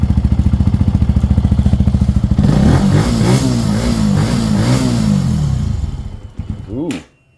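A 2021 Benelli TNT 135 motorcycle idles with a quick, even putter, then its small engine revs up sharply several times close by before dropping off to quiet.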